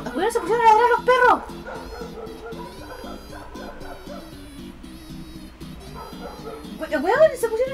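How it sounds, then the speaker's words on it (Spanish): Several dogs bark and yip in a burst near the start, then fall back under a music bed before barking flares up again near the end, all fairly loud and close. "¡Weón, se pusieron a ladrar a los perros!"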